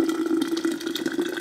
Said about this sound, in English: I'll put some hot water on it, let it seep for maybe, I don't know, half hour to an hour.